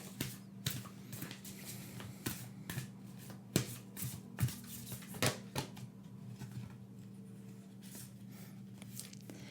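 Moonology oracle cards being shuffled by hand in a quiet room, giving a run of soft riffling bursts and light taps, close and gentle, with a low steady hum underneath and no voice.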